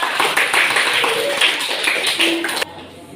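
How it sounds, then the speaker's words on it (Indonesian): Classroom applause for a student group about to present, a dense patter of many hands clapping close by for under three seconds before cutting off abruptly into near quiet. "Berikan tepuk tangan yang meriah untuk kelompok 2."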